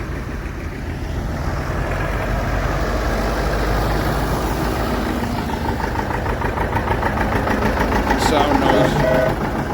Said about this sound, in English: Oh, I see that massive thing with a V8 Cummins come here.